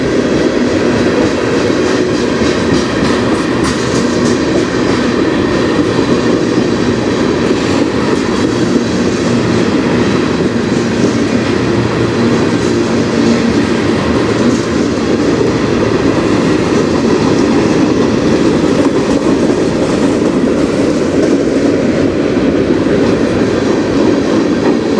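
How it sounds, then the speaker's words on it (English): A train rolls past on the Strathroy Subdivision rails, a loud, sustained rumble with clattering wheels and steady roaring noise that holds for the full stretch without letup. "My last train."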